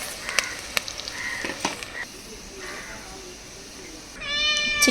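A cat meows near the end, a short, fairly clear call. It comes in an outdoor garden where onion and chicken pakoda are frying in oil, with faint clicks and background noise before it.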